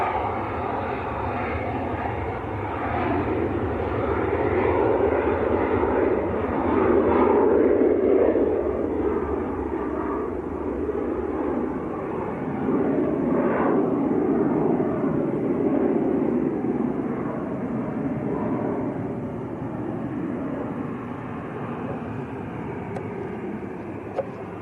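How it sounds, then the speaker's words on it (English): Two business jets pass at Manchester Airport, a sustained engine roar that swells in two broad waves with a whining tone and then fades toward the end. "We're about to get 2 bizjets for the price of one here."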